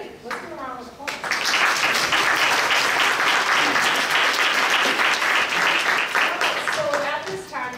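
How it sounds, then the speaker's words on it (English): An audience at a business school talk bursts into applause, a dense, steady clapping that swells after a short spoken moment and continues strongly, with a voice briefly audible near the end. "Let's go around with applause."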